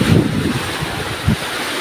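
Gusty typhoon wind roars and buffets close to the microphone, with surging water sounds in a flooded home during the storm, heard as continuous broadband noise with a couple of low thumping bursts.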